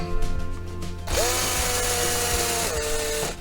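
A cordless drill whirs up loudly and runs steadily for a couple of seconds, its pitch dipping briefly before it winds down.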